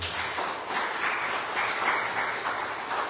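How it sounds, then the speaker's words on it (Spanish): Steady applause from a church congregation, many hands clapping evenly and close throughout the short stretch with no voices above it. "Le damos un aplauso, Señor."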